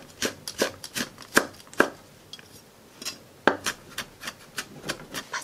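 A knife chops a green chili pepper on a board for seafood pajeon, giving a steady run of crisp, close taps at an even rhythm, with a short pause in the middle and no voices.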